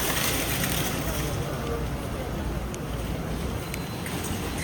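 Steady outdoor wind rushing and buffeting close against the microphone throughout, a continuous broad roar with no pauses.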